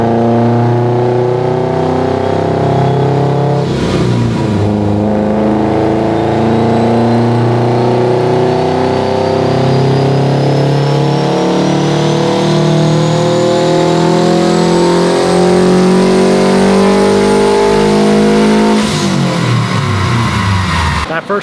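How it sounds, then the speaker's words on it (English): A fully built Subaru STI strains through a baseline pull on a dynamometer. The engine drones loud and close, its pitch climbing steadily through a long wide-open-throttle run before it cuts off. "We're about to do the first pull, first baseline pull"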